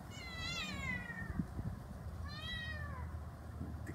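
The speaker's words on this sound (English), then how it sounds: "The kitty." A cat meows twice outdoors, two drawn-out, fairly close calls spaced about two seconds apart over a low background rumble.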